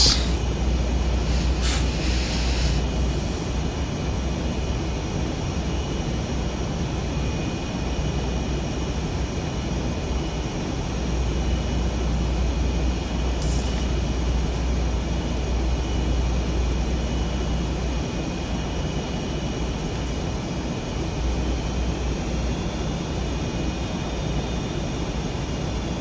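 An F/A-18 Superbug jet touching down at about 80 knots with spoilers out and aerobraking in the VRS Superbug flight simulator; a steady, loud broadband engine and wind roar runs throughout with no talk.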